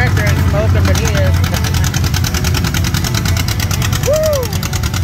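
An antique tractor engine idles loudly and close by with a steady rhythmic chugging throb, while voices talk over it.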